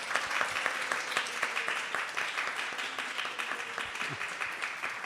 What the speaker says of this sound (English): we also would like to give a big round of applause for Koladvipa Prabhu